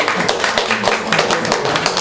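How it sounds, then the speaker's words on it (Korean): Brief burst of applause from a small group honouring two people at a training session, a dense patter of hand claps lasting a couple of seconds, close and fairly loud. "저는 박수를 좀 드리고 싶어요"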